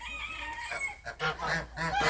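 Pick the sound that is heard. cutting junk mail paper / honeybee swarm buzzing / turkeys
turkeys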